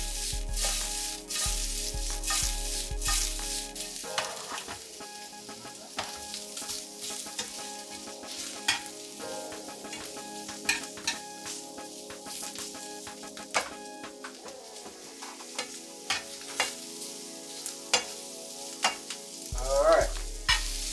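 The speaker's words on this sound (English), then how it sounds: "Give your shrimp a little toss," Shrimp sizzle steadily in a hot frying pan, tossed with occasional clattering pan and stirring noises; a loud, continuous frying hiss with no speech.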